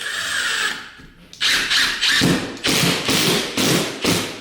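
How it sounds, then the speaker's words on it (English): A power drill drives a screw into drywall to secure a popped nail or screw back onto the stud, sounding as about six close, loud whirring bursts with short pauses between them. "So we'll just screw this one here in."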